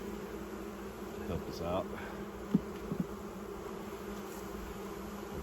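Honeybees drone in a constant buzzing hum at a hive on a new homestead, a fairly faint steady swarm sound with a brief spoken remark partway through.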